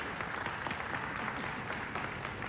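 Spectators at the 1988 Brunswick World Open pool semifinal applaud Keith McCready, a soft, dense patter of many hands heard from a distance, steady throughout without speech.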